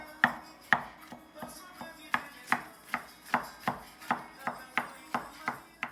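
A knife chops mushroom stalks roughly on a cutting board for stuffed mushrooms, about a dozen crisp, close knocks in an uneven steady rhythm, with no voices.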